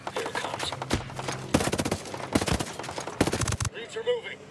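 Bursts of automatic gunfire in the video game Ghost Recon Breakpoint, several loud rapid volleys with short gaps between, followed by a quieter tail. A voice calls out between the shots.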